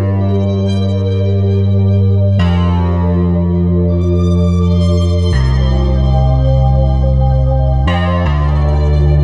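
Electra X Piano FM Rotary preset, pitched up nine semitones, sustains loud, bright electric-piano chords with a swirling rotary tone, the chord changing every couple of seconds with no gaps.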